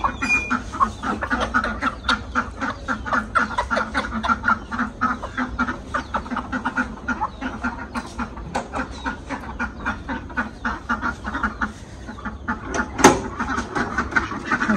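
Ducks and chickens let out of their house at a village home keep up a dense, steady chorus of quacks and clucks throughout, close by and busy.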